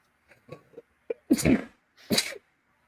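A person sneezes twice, loud and close, after a few faint breathy sounds, in an otherwise quiet room.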